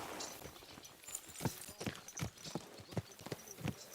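Horse hooves clip-clop at a steady walking pace in a medieval video game, a series of crisp, evenly spaced hoofbeats heard fairly close and quiet without speech.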